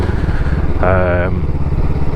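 A motorcycle exhaust drones steadily nearby, with a brief rising engine whine standing out in the middle.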